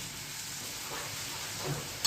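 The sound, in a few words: garlic chutney sizzling in hot oil tempering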